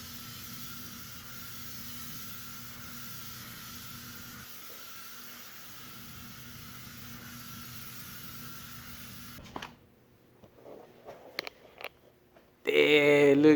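Spray gun laying gloss onto a 1978 Monte Carlo body panel in a shop, a steady, moderately loud hiss lasting several seconds, then stopping, followed by clicks and a burst of louder noise.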